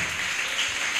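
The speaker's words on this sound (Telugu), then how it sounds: "చప్పట్లు కొట్టి దేవుని నామాన్ని గణపరుద్దాం" A church congregation clapping their hands during a sermon: dense, continuous applause that fills the short moment at an even, lively intensity.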